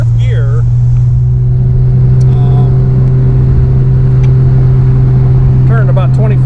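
A 1959 Austin Healey 100-6 engine drives in fourth gear with overdrive available, a loud, steady low drone with engine rumble from close by, under intermittent speech.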